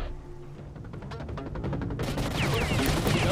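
Shotgun fire in the video game S.T.A.L.K.E.R.: Shadow of Chernobyl, a rapid run of sharp blasts over a dense, noisy firefight that grows louder and fuller partway through, with no talking.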